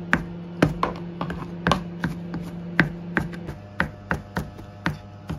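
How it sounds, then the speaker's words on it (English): A knife chopping stalks into small uniform chunks on a board, a steady series of sharp close taps at an uneven, brisk rhythm, about fifteen strikes, with no talk. "So now I am going to chop up these stalks into little uniform chunks"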